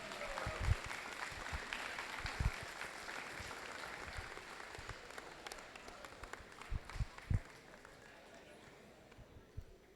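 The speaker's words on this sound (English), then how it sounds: "Let's give one more round of applause for the Horde" Audience applause for an award-winning FTC robotics team at a qualifier event, scattered clapping and crowd noise with some louder thumps, fairly faint and fading toward the end.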